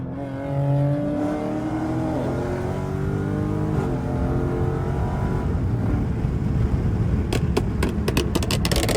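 Straight-piped Dodge Scat Pack, rising and falling revs from a loud V8 exhaust, close by, with sharp crackling pops toward the end.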